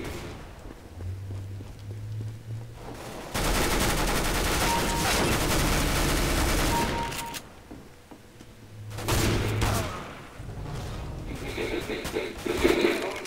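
Shotgun fire in an online video game comes as bursts of loud, dense gunfire with a long sustained volley in the middle, followed by quieter game sounds and a faint voice.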